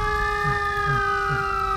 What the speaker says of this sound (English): I want fire truck ambulances going off.